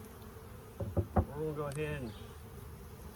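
Honeybees buzz around a beehive on a farm, with a low, continuous drone in the background. Someone speaks briefly over the buzzing while working at the hive.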